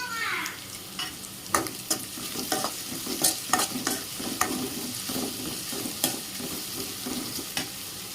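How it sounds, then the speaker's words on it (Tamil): Onions sautéing with salt in a pan for vegetable semiya biriyani: a steady close sizzle broken by repeated scraping stirs, about a dozen clicks and rattles of the spoon spread evenly across the stretch, with no talking. "வெங்காயம் சீக்கிரம் வதங்கிறதுக்கு தூள் உப்பு கொஞ்சம் சேர்த்துக்கிறேன்"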